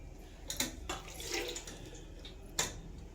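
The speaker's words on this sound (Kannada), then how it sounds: "ನೀರು ಹಾಕ್ಬೇಕು ಒಂದೆರಡು ಗ್ಲಾಸಷ್ಟು ನೀರು" Water is poured into a cooking pot of rice, with a few splashy bursts and a soft running trickle, heard close and moderately quiet, with no speech.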